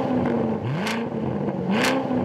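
Sports cars pulling away together, a Porsche 911 Carrera S, a Corvette C7 and a BMW M850i: a steady loud engine drone rising in pitch as they accelerate, with two brief bright whooshes as cars pass close.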